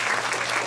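Audience applause fills a briefing hall, a short, steady burst of many hands clapping close by, welcoming a research fellow about to present a circular-agriculture biochar power generation system.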